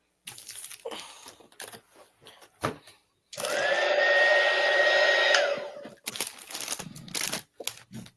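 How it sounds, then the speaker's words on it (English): A heat gun switches on and blows with a loud whooshing whine for a few seconds, then cuts off; scattered handling noises before and after. "going to use my little heat gun."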